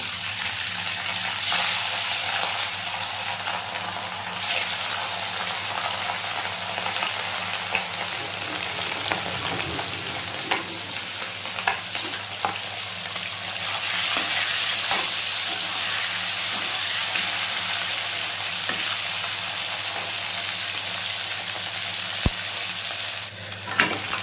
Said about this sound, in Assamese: মাছখিনি দি দিছোঁ